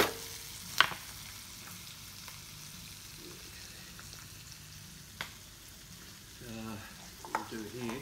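Chicken, red onion and vegetables stir-frying in plum sauce, a steady soft sizzle with occasional scrapes and clacks of a utensil in the pan, fairly quiet throughout and with no talking.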